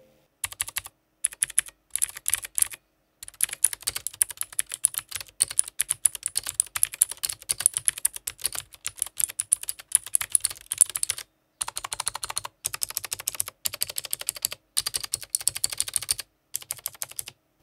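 Steady, rapid typing on a computer keyboard, crisp key clicks in bursts with brief pauses, close and clear, no one speaking.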